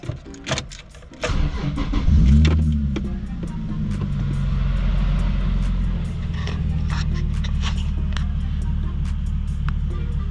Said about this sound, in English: now it's time to start the car and see how it sounds